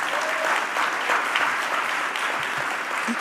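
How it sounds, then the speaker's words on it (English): Audience applause fills a conference hall for an event organizing team, a loud, dense and steady round of clapping from a large crowd with no voices over it. "Give that team a round of applause for all their hard work."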